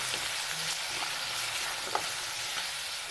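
Tomatoes seasoned with turmeric, red chili powder and salt fry in a pan with a steady, close sizzle and faint stirring scrapes, no voices.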